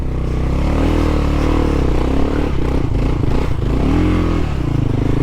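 A KLR650 dual-sport motorcycle labours through a rough river crossing, its engine droning loud and close with the pitch rising and falling as it strains, amid clattering and scraping.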